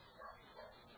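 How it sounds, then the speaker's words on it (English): A dog barks twice in the background near a studio, muffled and faint, with no other sound. "If you hear a dog barking in the background"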